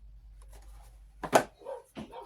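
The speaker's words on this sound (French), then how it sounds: "ça c'est mes chiens qui sont en train de jouer" Dogs at play indoors make a few short, muffled barking and growling bursts, fairly faint and brief, against a quiet room background.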